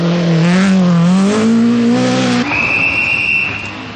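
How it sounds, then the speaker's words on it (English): A Nissan rally car at the 1985 British Rally passes at speed, its engine note loud and rising through the gears, then dropping away into a steady high whine and road noise. "After a superb drive, coming home for an excellent third place was Terry Cabey in the Nissan"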